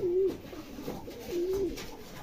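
A pair of Rajshahi Giribaz pigeons gives two soft, low coos, each lasting about a third of a second and spaced roughly a second apart, heard close by with no talking.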